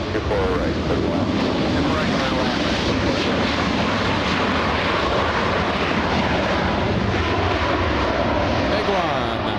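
Large Korean passenger jet at LAX, a loud, continuous broadband engine roar filling the whole stretch without letup, with a person talking underneath.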